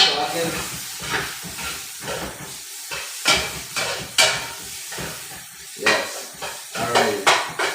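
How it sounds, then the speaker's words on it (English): Rice stick noodles are stir-fried in a hot pan, giving close, sizzling hiss. Intermittent bursts of stirring and scraping against the pan come in uneven rhythm. "let's give it a stir"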